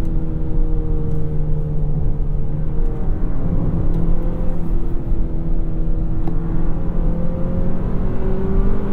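2024 Hyundai Sonata N Line accelerating hard, its engine note climbing and dropping as the dual-clutch transmission shifts quickly, heard loud and steady from inside the car.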